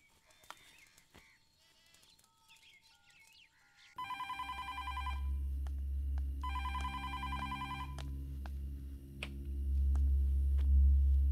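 A telephone rings during a call in a domestic scene, its repeated electronic ringing bursts in two clear groups over a low steady hum, with no talk.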